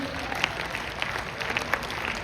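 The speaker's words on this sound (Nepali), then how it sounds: "ताली ताली प्लिज।" An audience at a summit gathering claps to welcome an arriving guest, a soft, even wash of many hands with a few sharper claps, moderately distant and fairly quiet.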